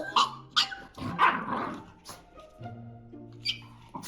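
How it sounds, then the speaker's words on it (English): A dog lets out a series of sharp warning barks, several loud bursts spaced irregularly over a few seconds, with softer growly sounds between them and a faint tonal hum beneath. "Max started giving warning barks"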